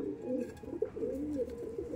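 Pigeons of a long-flying Madrasi breed, a male and female pair, coo softly and continuously in low, throaty rolling calls, close by and with no talk.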